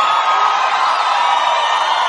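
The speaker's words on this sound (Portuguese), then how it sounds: "Palmas!" A large concert crowd at a show in Goiânia roars with a dense, continuous wash of cheering and shouting, loud and unbroken throughout.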